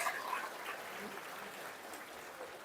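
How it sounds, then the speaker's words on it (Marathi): A crowd at a Buddhist dhamma sermon gathering in Badlapur claps for the organisers, a faint, steady patter of applause heard from a distance with some murmuring mixed in. "एकदा आयोजकांसाठी आपण प्रचंड टाळ्या वाजून त्यांचं अभिनंदन केलं पाहिजे."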